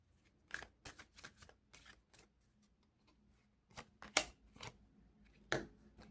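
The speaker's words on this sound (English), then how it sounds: "Let me just shuffle this." Tarot cards being shuffled by hand in a quiet room, a series of crisp riffling bursts and soft taps, close and fairly faint, with brief pauses between shuffles.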